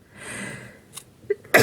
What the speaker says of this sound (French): Et j'ai envie d'éternuer.